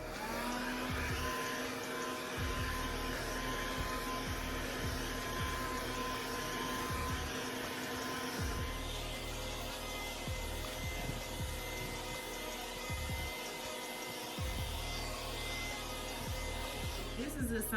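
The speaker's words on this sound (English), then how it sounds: "And so now I'm blow drying it." A hair dryer blow-drying natural hair, a continuous loud, close whooshing drone that runs the whole time, shifting slightly partway through.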